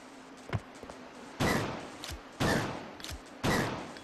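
Three loud, evenly spaced shotgun blasts from the survival horror game Resident Evil Code Veronica X, each a sharp boom with a short decaying tail, fired about a second apart over a faint game-ambience background.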